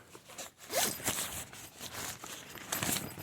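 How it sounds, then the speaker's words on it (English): Close zipper run along the netting of a one-person backpacking tent, a steady rasping pull lasting a few seconds with slight surges, heard on its own without talk. "you can zip it under"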